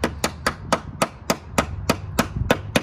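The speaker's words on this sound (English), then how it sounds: "Baby hammer." A small hammer taps a pin into the roof trim of a BMW E90 with about ten sharp, evenly spaced metallic strikes, each one close and crisp with a quick ring.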